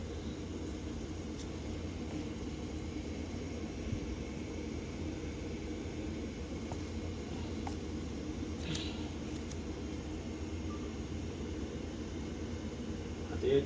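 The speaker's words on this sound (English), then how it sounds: "Y'all may hear the Resiner's air purifier in the background." Resin-casting workshop air purifier runs steadily in the background, a low broadband whooshing hum with no change across the whole stretch, quiet and constant, with faint small clicks above it.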